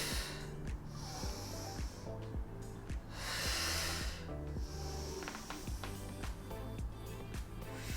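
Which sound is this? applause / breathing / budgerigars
breathing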